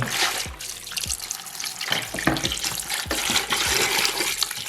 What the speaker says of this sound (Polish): Wody wlewam na tyle, żeby przykryć wszystkie składniki.